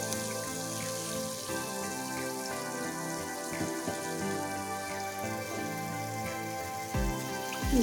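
Milk bun dough balls deep frying in oil over a medium flame give a steady, close crackling sizzle that runs the whole time beneath background music.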